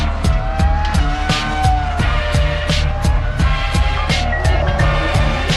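Loud Formula 1 race car skidding through a spin at a final corner in a 2003 Grand Prix, with sustained tyre squeal over a roaring, wavering engine note.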